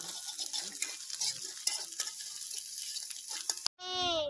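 Nasi goreng being stirred and fried in a pan at camp on a Mount Kerinci climb, a steady sizzle with scraping stir strokes throughout, close and fairly loud, with faint voices underneath and a brief different sound at the very end.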